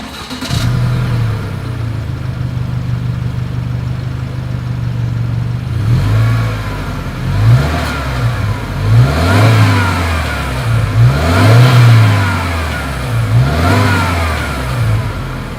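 A turbocharged 2020 Subaru Outback exhaust, heard up close. A steady, loud idle gives way to a series of rhythmic revs that rise and fall about every second.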